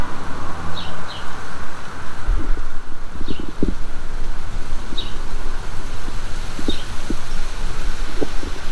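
Wind blows across an overgrown lawn outdoors, a loud, constant roar buffeting the microphone, with a few faint bird chirps and small clicks poking through.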